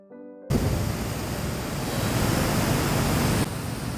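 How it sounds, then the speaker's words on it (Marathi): Fast-flowing water rushes at Khadakwasla Dam in the monsoon, a loud, dense, continuous roar that cuts in after a brief musical intro and holds steady to the end. "वेगाने वाहणारे पाणी, त्याचा आवाज आणि आजूबाजूचा सुंदर निसर्ग."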